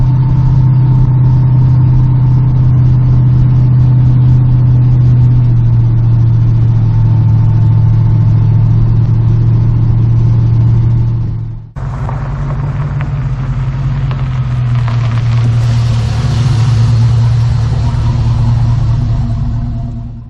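A 1986 Chevy C10 pickup swapped to a 6.0 LS V8, driving with a steady, deep engine drone and road rumble that stays loud and close, dips briefly just before midway, then settles back into the cruise.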